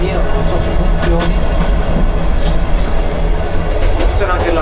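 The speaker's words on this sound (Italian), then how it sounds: "il treno va molto molto lento" A train rolling slowly along rails on a Turkmenistan rail journey, with a steady loud rumble, faint rhythmic clicks and voices talking over it.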